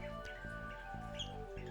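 Small bird chirps from the video game Stardew Valley, a few faint tweets scattered over a steady, calm looping music background.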